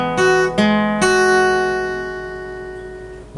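Three slow strummed acoustic guitar chords from a guitar lesson ring out one after another, the last left to sustain and fade clearly with no voice over it.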